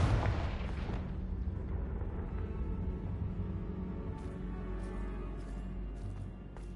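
A heavy fiery blast from the Confringo spell in Hogwarts Legacy opens with a loud boom, then a long rumbling, crackling decay fades under faint ticking sounds.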